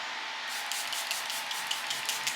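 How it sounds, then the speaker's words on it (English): A few quick spritzes of Charlotte Tilbury Airbrush setting spray misted onto a face, a soft airy hiss with faint puffs, close and quiet with no talking. "let me spray, obviously. I use the Airbrush Setting Spray,"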